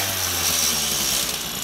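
An MBK 51 moped engine idles with its water pump connected, giving a steady, buzzing mechanical drone with a faint high whine, close by and without talk.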